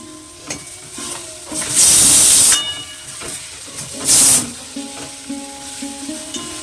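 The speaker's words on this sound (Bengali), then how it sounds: "ওইটা আবার একটুখানি সিটি মেরে নিচ্ছি জল দিয়ে হালকাটা" A pressure cooker whistle shrieks twice, two loud hissing bursts of escaping steam separated by a pause, over quieter kitchen clatter.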